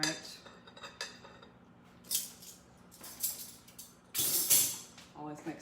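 A cheeseburger pie filling of egg and plain Greek yogurt being stirred in a bowl: scattered utensil clinks and scrapes against the dish, with louder clattering bursts near the end, close and without talk.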